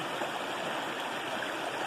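Williams River in Vermont flows past in a steady, unbroken rush of water, close and fairly even in level with no voices over it.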